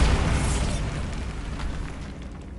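Bombarda blasting spell explosion in Hogwarts Legacy, a single loud booming blast that rumbles and slowly decays, with no voices.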